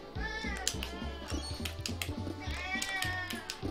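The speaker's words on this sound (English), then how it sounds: "if you hear some crying in the background, that's my cat." A pet cat meows repeatedly in the background, several drawn-out crying calls in irregular succession over game music and sound effects.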